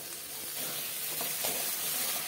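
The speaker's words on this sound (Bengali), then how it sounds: "দিয়ে দিলাম টমেটো আর কাঁচা লঙ্কা বাটা" Tomato and green chili paste hits hot spices of ginger-garlic, coriander, cumin and turmeric in a pan, bursting into a loud, steady sizzle with stirring scrapes, close and without talk.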